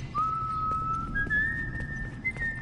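A character in The Last of Us: Left Behind whistles a single sustained note that steps up in pitch twice, clear and fairly close over a low background rumble.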